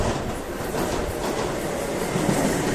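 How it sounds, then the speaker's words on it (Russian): An Ivolga 4.0 electric commuter train runs on rails near Moscow, heard from inside as a loud, continuous rumble and hiss of wheels and motion, with no talking. "И сейчас поедем на электричке до станции Аминевской."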